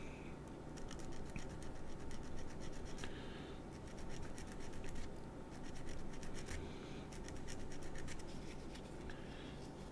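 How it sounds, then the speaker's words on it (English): Sandpaper scrubs a plastic 1/35 scale Scammell Pioneer model part in close, continuous back-and-forth strokes, with short pauses between passes and no talking. "I'm going to sand it until that's pretty much, that mark's pretty much gone"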